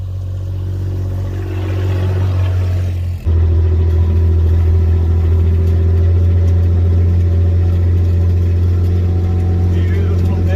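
A vehicle climbs a hill on a Montana ranch, its engine a loud, steady low drone that briefly dips near the start, then holds strong and close, with speech over it early on.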